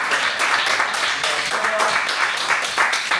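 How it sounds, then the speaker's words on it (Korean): A classroom of students applauds a classmate's presentation, with dense, steady clapping at close range that fills the whole stretch without pause. "찬솔이 발표 열심히 해주신 박수 한번 해주세요"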